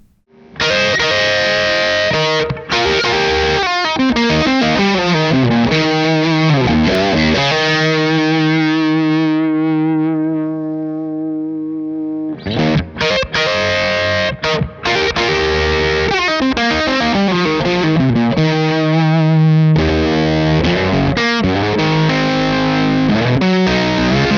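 A distorted electric guitar through a Crazy Tube Circuits Venus tube overdrive pedal, bias about 75% and medium gain, plays sustained chords and riffs with warm, gritty overdrive, loud and continuous, with a brief ringing pause midway.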